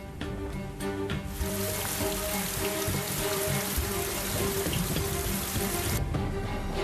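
Heavy monsoon rain pours down on the Colorado Plateau near the Grand Canyon, a loud continuous roar of drops that swells and holds steadily throughout, with a faint low tonal hum beneath.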